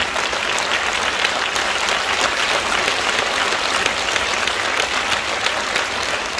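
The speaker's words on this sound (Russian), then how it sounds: "Я понял по вашим аплодисментам, что пора заканчивать" Dense, sustained audience applause fills a hall at a Faberlic forum speech in Moscow, loud and even from start to finish with no voices over it.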